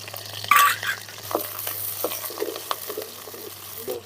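Shallots and garlic sauté in sesame oil for a tamarind kuzhambu, giving a soft, continuous sizzle with a few scraping stirs and light knocks, close up and with no talk.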